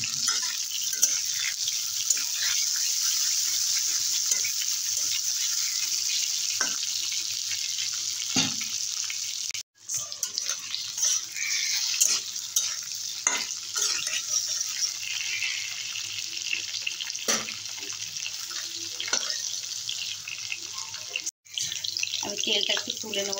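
Potatoes frying in hot oil in a pan for a light Bengali fish curry, a steady close sizzle with occasional stirring knocks and brief pauses, and a voice speaking intermittently over it.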